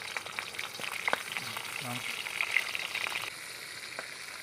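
Food frying in hot boiling oil gives a steady close sizzle with occasional crackles and pops, and a stirring scrape partway through.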